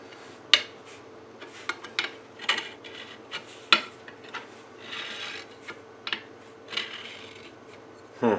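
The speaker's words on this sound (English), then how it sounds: "I'm just going to check it with my fret rocker again" A fret rocker is rocked and tapped across the frets of a Stratocaster-style electric guitar, giving close, irregular light clicks and scraping rubs spread through a quiet room.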